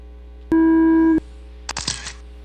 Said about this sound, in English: Should be at the sound of the tone.